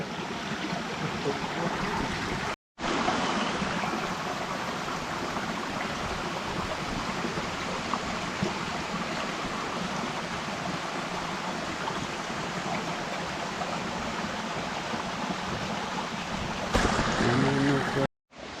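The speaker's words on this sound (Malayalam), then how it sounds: "ഈ ഒഴുകി വരുന്ന തോട്ടിലൂടെയുള്ള വെള്ളത്തിലാണ് കുളിക്കുന്നത് കേട്ടോ" Steady broadband rush of water flowing along a small bathing stream near a temple bathing ghat, loud and continuous with a brief cut near the start and faint voices toward the end.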